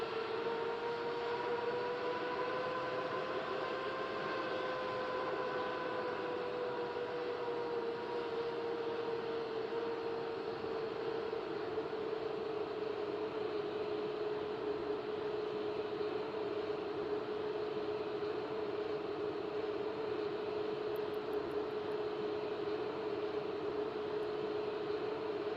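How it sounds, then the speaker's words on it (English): Left jet engine of an aircraft starting up in a flight simulator game, heard as a steady droning turbine whine with a faint higher tone that fades early, continuous and alone with no voices. "Now it's time to start the left engine."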